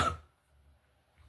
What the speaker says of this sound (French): J'ai une toux chronique